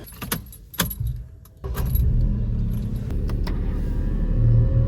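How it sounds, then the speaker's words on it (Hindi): Keys jangle in sharp, close bursts as a car is brought out. A car engine then starts and settles into a steady, loud idle that continues to the end. "मैं गाड़ी निकाल रहा हूँ, गाड़ी निकालते हैं"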